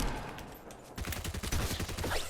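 Rapid gunfire bursts in the Fortnite video game, a short lull then dense repeated shots close and loud, with no talk over them.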